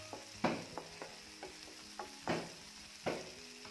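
Tomatoes sizzle and fry in a pan while being cooked down for okra bhaji, with a steady hiss broken by several sharp stirring scrapes and clatters of a spoon against the pan, close and moderately loud with no talking.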